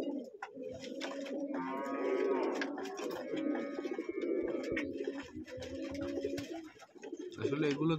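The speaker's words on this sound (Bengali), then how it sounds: "কবুতরের বাচ্চাকে খাবার দিতেছে," Pigeons in a cold-weather loft give steady, soft throaty coos while feeding their chicks. The calls overlap closely, and a voice is faintly audible at times.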